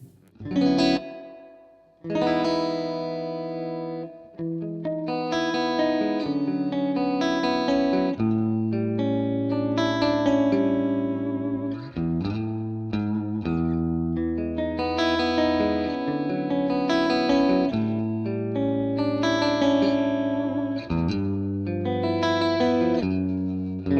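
Lo-fi guitar chords played through a spring reverb with modulation, sustained and layered, with a washy, slightly distorted shimmer and long decaying tails, loud and continuous throughout with no voice over it.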